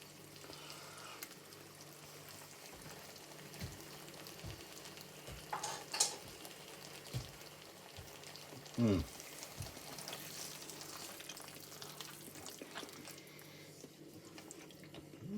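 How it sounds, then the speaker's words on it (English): Lamb and onion sizzle steadily in a pan at low volume for a lamb bhuna, with occasional clinks and scraping from stirring and brief faint voices in the background. "So a little bit of lamb. Get a bit of onion as well."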